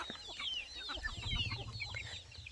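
Chickens clucking on a small farm, several birds with rapid, overlapping high clucks and squawks over a low background rumble, close and steady throughout.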